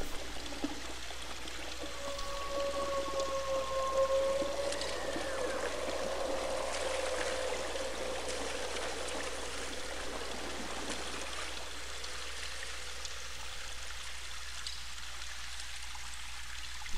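Water flowing steadily in the video game Realms of the Haunting, a continuous trickling stream at moderate level with a faint tonal hum in the middle stretch, and no talk over it.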